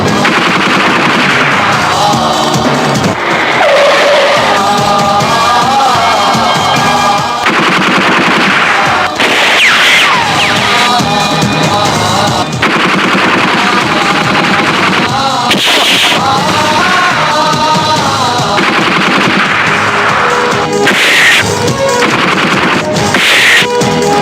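Sustained bursts of machine-gun and rifle fire crackle through a Pakistani action film scene, loud and continuous over about twenty-four seconds with overlapping volleys, music-like tones beneath and no clear speech.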